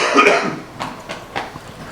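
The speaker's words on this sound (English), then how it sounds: "I'm going to have a big cough, excuse me." A single heavy cough bursts close to the microphone, followed by a few short, rougher throat-clearing coughs in a quieter indoor room.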